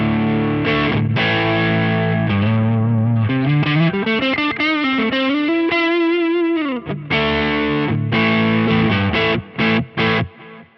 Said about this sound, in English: So you can hear it's that nice kind of warm, rounded. It's just a nice overdrive.